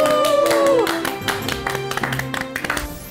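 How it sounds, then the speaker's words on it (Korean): A lecture audience claps to welcome history lecturer Kim Seong-min: a burst of scattered handclaps over fading background music, thinning to sparse individual claps toward the end. "큰 박수로 모시도록 하겠습니다"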